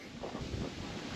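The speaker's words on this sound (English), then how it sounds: "It's kind of windy up here on this hill." Gusty wind on a hilltop at a basement excavation site buffets the microphone in low, uneven rumbles for a moment, with no talking.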